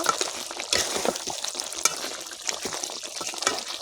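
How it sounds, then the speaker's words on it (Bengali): Mutton and three bay leaves are stirred in a hot pan, a busy crackling sizzle with quick irregular scrapes and clatters close by, no one talking. "দিয়ে দিলাম 3টা তেজপাতা, দিয়ে ভালো করে নেড়ে দেব"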